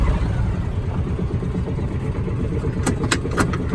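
A Kawasaki Mule 2510 utility vehicle engine runs steadily nearby with a low, constant drone as its sticking throttle hangs up. A few faint clicks or taps come near the end.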